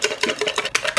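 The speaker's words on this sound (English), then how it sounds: "Whisk, whisk, whisk." Egg whites being whisked by hand in a bowl, giving a fast, steady run of swishing, tapping strokes heard close and loud, with no talk.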